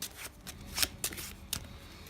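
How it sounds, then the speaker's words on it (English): Playing cards riffled and shuffled in several quick bursts, crisp and close, with brief pauses between each flutter. "So they have shuffled their cards out."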